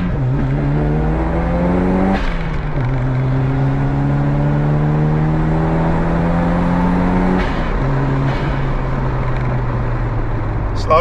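Toyota Celica GT-Four with an aftermarket exhaust pulls hard through the gears, engine drone rising in pitch, dropping at each shift and climbing again, loud and steady from inside the car.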